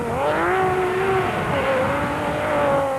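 Off-road race cars, a Golf-powered Mighty Mag and a Porsche, roar loudly and continuously with high revving engine tones that rise and fall through gear changes.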